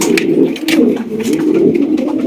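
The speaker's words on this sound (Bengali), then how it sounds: "একজোড়া বিউটি কবুতর আছে" Caged beauty pigeons coo loudly and close by in repeated throaty, rolling phrases that overlap one another with almost no pause, and no one speaks.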